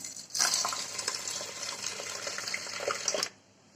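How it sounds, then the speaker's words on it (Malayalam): Water poured from a vessel onto bamboo rice in a pressure cooker, a steady splashing pour lasting about three seconds that starts and stops abruptly, close and alone. "മുളയരിയുടെ ഒപ്പം വെള്ളം വെച്ചു കൊടുക്കാം."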